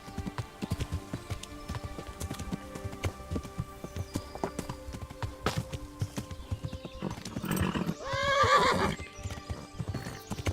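In Kingdom Come: Deliverance, a horse's hooves beat in a quick, steady clip-clop as it gallops, close and fairly loud, with a sharp neigh near the end.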